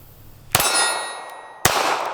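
Two loud, close metallic clangs of pistol rounds from a Ruger .380 striking a steel target, each ringing briefly, about a second apart.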